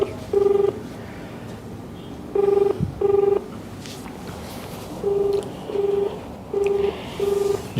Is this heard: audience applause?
no